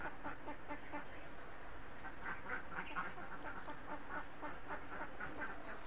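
Ducks kept at a rural Assamese farmhouse quack in a steady, busy chorus alongside other farmyard activity, moderately loud and continuous throughout with no talk.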